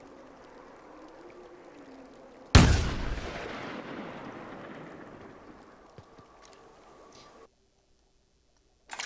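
A single loud, booming video-game gunshot hits suddenly, then rolls off in a long decaying rumble over several seconds before the sound cuts out, with faint ticks and clicks around it.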